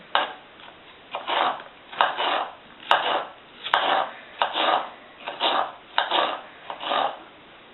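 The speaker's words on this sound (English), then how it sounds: "We're gonna slice this pepper into small pieces." A knife slices a chili pepper into small pieces on a board: about a dozen rhythmic scraping cuts, each a short gritty stroke with small pauses between, close and clear without talking.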